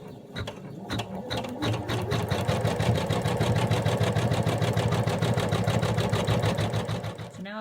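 Sewing machine stitches a pocket outline on fabric for a mouse's pants, a fast steady mechanical clatter of the needle running continuously, close and fairly loud.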